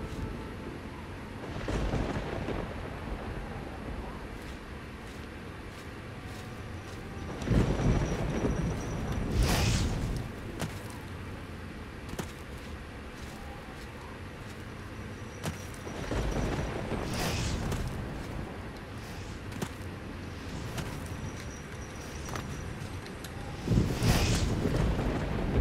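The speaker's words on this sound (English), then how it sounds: "This thing shoots fire." Fire-shooting creature in Elder Scrolls Oblivion, repeated roaring whooshes of flame blasts that rise and fade every few seconds over a low rumbling game ambience.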